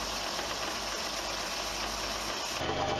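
A belt sander cleans up the edges of split oak, giving a loud, steady, close-up whirring grind that shifts in tone near the end.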